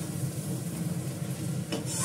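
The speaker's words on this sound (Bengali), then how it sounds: "দেখো মাংসটা ভালো করে কষানো হয়ে গেছে, তেল একদম বেরিয়ে আসছে" Meat sizzles steadily in hot oil while being stir-fried, a close, continuous crackling hiss with a brief scrape of stirring near the end.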